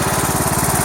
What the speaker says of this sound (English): Cutting noise is similar. When the engine gets under load, same thing.